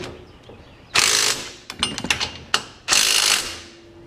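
Ratchet socket wrench clicking in quick bursts while working on the rear gear of a Legends race car, close and loud, with short pauses between the turning strokes and no talking.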